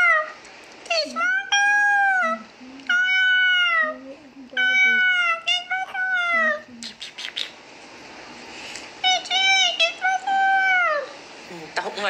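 A cat meows over and over in drawn-out calls separated by short pauses, heard close and clear in a quiet room.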